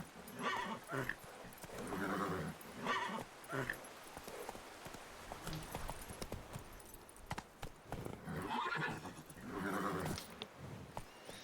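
Roach the horse in The Witcher 3 whinnies and neighs in several loud calls, with hoof clip-clop and game ambience running throughout.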